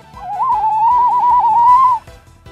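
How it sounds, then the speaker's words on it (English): A person gives a playful wavering whistle, loud and up close, holding one warbling pitch for about two seconds while playing the Psychologist in the Identity V video game. "I haven't played Psychologist, so I gotta do my funny whistle."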